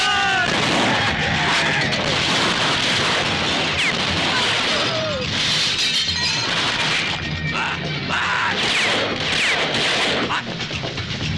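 Dense gunfire and crashing impacts from a Hindi-dubbed South Indian action film scene, with loud repeated shots and smashes layered over a continuous, busy soundtrack for the whole stretch.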